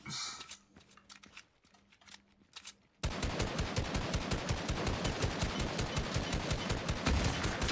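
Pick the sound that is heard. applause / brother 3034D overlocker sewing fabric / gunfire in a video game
gunfire in a video game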